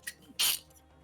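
A single sharp sneeze, close and loud, preceded by a short intake of breath, in a quiet room during an online voice chat.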